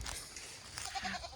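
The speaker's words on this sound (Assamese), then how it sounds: "আমাৰ ছাগলী মোক দেখিলে আৰু" A pet goat at a rural home gives short, faint bleats in a quick run of about three calls, close by, with no talking.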